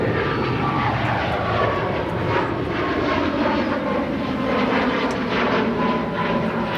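An ITA Airways airliner at O'Hare International gives off a steady, continuous jet engine roar at moderate distance. The sound stays even throughout, with no talking.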